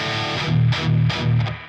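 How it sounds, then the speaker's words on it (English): An electric guitar played through a Fortin 66 boost pedal into a distorted amplifier chugs out three heavy palm-muted power-chord bursts with a thick, saturated, buzzy tone. "instead I'm going to turn on this 66."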